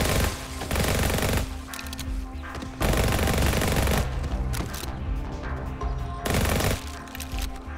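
Rapid bursts of automatic gunfire from a modded pistol in the VR zombie shooter Undead Development, coming in loud dense volleys with short pauses between them.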